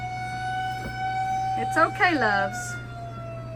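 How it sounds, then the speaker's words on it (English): A tornado siren in Sidney, Nebraska holds a steady, faint distant tone under a low hum, while people talk briefly over it. "when you hear the tornado sirens."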